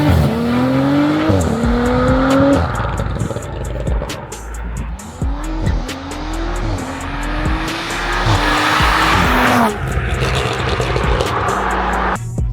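A 700 BHP twin-turbo stage 3 tuned Audi RS4 estate accelerates hard through several gears, engine note rising and dropping between shifts, loud and close with turbo whooshes and no talking.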